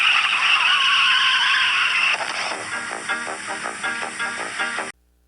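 A Ford Fairlane drives past with a loud, steady engine roar and a hiss of tires, then it settles into a rougher, pulsing engine note before it cuts off abruptly near the end.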